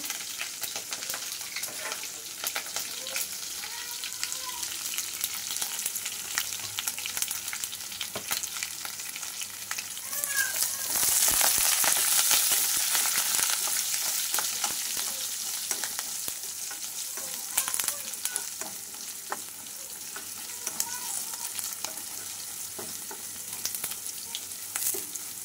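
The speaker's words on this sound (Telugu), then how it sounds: "తాలింపు అయితే మంచిగా వేగింది" Dried red chillies, cumin, mustard seeds and curry leaves frying in hot oil for a tempering, a steady crackling sizzle that swells louder midway and then settles back, with no voices.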